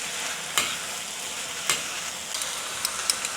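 Chinese yam, celery and wood ear mushrooms stir-fried in a pan: a steady, bright sizzle throughout, broken by a few sharp scrapes and clicks of the spatula, close and alone without talk.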